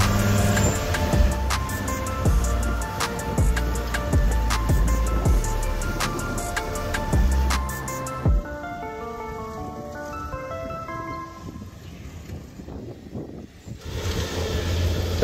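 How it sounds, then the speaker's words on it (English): A winch strains to pull a badly stuck off-road vehicle out of a deep bog, giving a loud, steady mechanical drone with rapid rhythmic clanking pulses that later settle into a lower, rougher rumble. "That winch is working hard"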